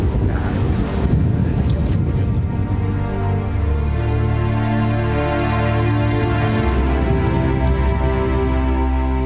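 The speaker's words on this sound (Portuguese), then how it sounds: "E as rajadas de vento? Ah, como aliviam o cansaço." Strong gusts of wind buffet the microphone on a mountain trail above Barra da Tijuca in Rio de Janeiro, a loud, continuous low roar that barely lets up.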